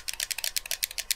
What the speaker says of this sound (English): you're clicking the buttons like this